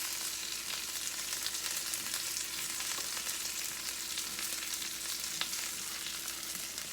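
A burger patty cooking in a pan with unsalted butter, giving a steady, dense sizzle and crackle throughout, close and even in loudness with no talking.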